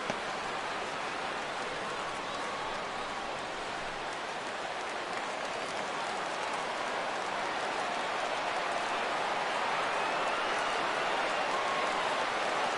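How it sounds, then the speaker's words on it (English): Steady crowd roar fills a baseball stadium in MLB The Show 17 during a Cardinals versus Yankees game, a broad continuous swell that holds level and rises slightly toward the end, with no clear voices over it. "Crowd gets up for the 3-2."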